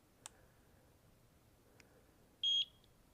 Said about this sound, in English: I have to hold it down for 2 seconds until you hear a beep and the light's flashing blue.